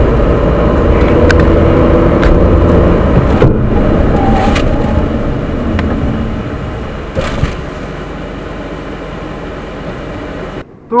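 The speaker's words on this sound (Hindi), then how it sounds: "तो जैसा आपने देखा ब्रेकिंग भी काफी अच्छी है" A Tata Nexon car brakes hard to a stop, its road and engine rumble loud and steady before fading as it slows, ending in a brief knock.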